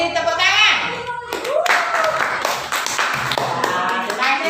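A classroom of students gives group 3 a round of applause, with steady, dense clapping that runs for several seconds after a brief voice at the start and continues under faint chatter.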